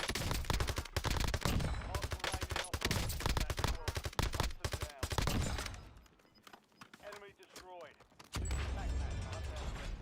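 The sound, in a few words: gunfire in the video game Warzone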